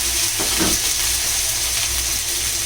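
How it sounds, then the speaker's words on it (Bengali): Crushed garlic paste hitting hot oil in a pan for tomato chutney, a steady bright sizzle with soft stirring scrapes, close and continuous. "রসুন বাটা দেব রসুন থেঁতো দিলে বেশি ভালো হয়"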